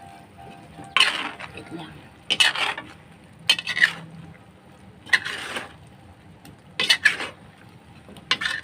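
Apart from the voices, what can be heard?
stirring vegetables and coconut cream in a pot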